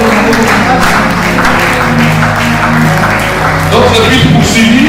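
A church congregation at a Friday service applauds and cheers loudly and without a break, with voices and music mixed into the steady clapping.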